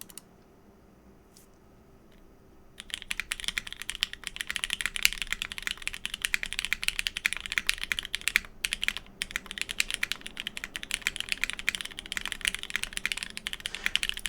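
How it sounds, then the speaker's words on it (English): Typing on a keyboard fitted with Cherry MX Black switches, GMK keycaps and an aluminum bottom: after a near-silent start, a fast continuous stream of close, crisp keystroke clacks with brief pauses, no talking. "With Cherry MX Blacks. And GMK keycaps. Okay, let's listen to what this sounds like."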